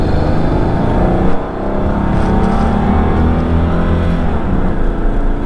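A 1988 Oldsmobile Cutlass Supreme International engine revs loudly and close, a sustained droning roar that climbs and holds with a brief dip partway through, no voices over it.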